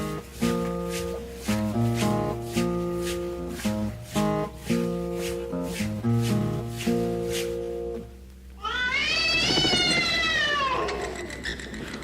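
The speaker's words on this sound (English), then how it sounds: "A black cat and a scary bat." A black cat meowing with a spooky effect, a drawn-out wavering caterwaul rising over an eerie repeating synth-like pattern, fairly loud and close, with no talk.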